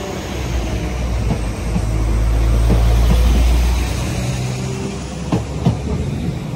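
A Northern diesel passenger train, unit 195003, idles and rumbles at a platform at Meadowhall Station, its low engine drone swelling and easing, with a few faint clanks nearby.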